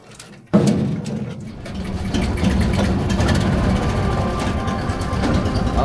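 After a brief quiet moment, a boat engine starts abruptly and keeps running with a steady, loud, close rumble, on a lake in Bueng Kan, Thailand.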